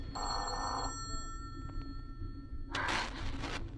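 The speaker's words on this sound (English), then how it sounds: "Answer the phone, Ruth." An old telephone bell rings in a 1949 radio drama, two distinct bursts of rapid electric jangling separated by a pause, set against a low steady background hum.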